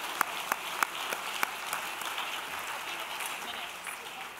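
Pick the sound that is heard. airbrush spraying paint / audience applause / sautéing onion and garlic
audience applause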